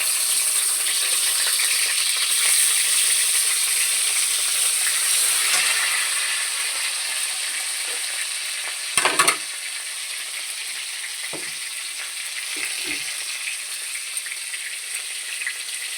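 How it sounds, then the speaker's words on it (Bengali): Fried potatoes and tomato cooking in a kadai for a soya chunk and paneer dish, a steady hissing sizzle that eases midway, with a few brief utensil scrapes and knocks. "কড়ায় ভেজে রাখা আলু কটা দিয়ে দিয়েছি একটু ভালো করে কষিয়ে নেব আলু দিয়ে"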